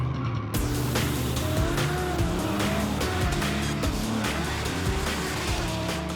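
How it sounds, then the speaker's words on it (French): A competition drift car slides through a corner, engine roaring loud and steady with tires squealing as it holds the skid, close and continuous throughout. "Le pilote place sa voiture en position de dérapage, mais doit conserver en tout temps le contrôle du véhicule."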